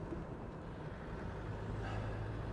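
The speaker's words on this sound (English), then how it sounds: "Let's wait for this car to come past." A car driving past on a road during a brake servo fitting job, a low, steady rumble of engine and tyres that swells gently toward the end, moderately distant and quiet.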